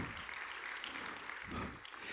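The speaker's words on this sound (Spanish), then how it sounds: "Dáselo más fuerte ese aplauso" Church congregation applauding during a sermon by a pastor, a faint, diffuse wash of clapping heard from a distance with no distinct individual claps.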